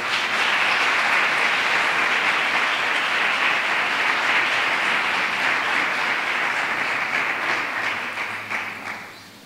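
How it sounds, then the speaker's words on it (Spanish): A crowd at a town hall ceremony crowning the Three Kings claps in a thick, sustained burst that stays loud throughout before tapering off at the very end. "Un aplauso para ella."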